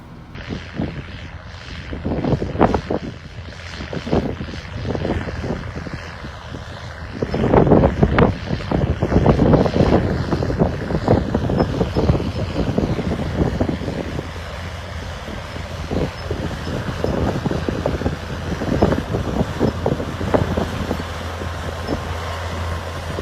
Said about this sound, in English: This is what I'm doing right now. It's the field cultivator.